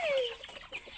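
A chicken clucks nearby in a short burst of squawky, rising-falling calls, with quieter clucks trailing after.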